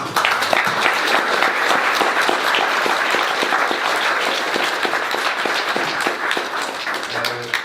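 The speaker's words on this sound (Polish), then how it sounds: "Tu brawa dla Krzyśka." An audience claps steadily after a technical talk on JWT authentication. The applause is dense and sustained at moderate loudness, with a few faint voices underneath.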